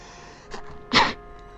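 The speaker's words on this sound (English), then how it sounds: "I sneezed." A single sharp human sneeze bursts out loudly near the microphone during a Demon's Souls boss fight against the Adjudicator, preceded by a faint intake of breath.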